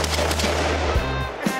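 A 12-gauge shotgun fired from a mount on an ATV four-wheeler: a loud, close blast with a booming low end and brief echo, followed by a smaller thump.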